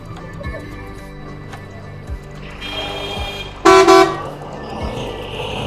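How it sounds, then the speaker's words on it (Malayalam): Traffic rumbles at Rishikesh bus stand, with faint repeated honks and then one loud, close car horn blast lasting about half a second, followed by a shorter toot. "ഇതാണ് ഋഷികേശ് ബസ് സ്റ്റാൻഡ്"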